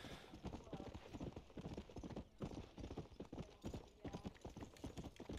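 Rapid, steady clip-clop of horse hooves at a gallop in Red Dead Redemption, with a continuous background bed and no talking.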